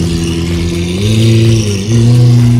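A Lamborghini Aventador SV revs hard at a rally start line, its loud, close engine note climbing and stepping up in pitch twice in sustained, throaty pulls.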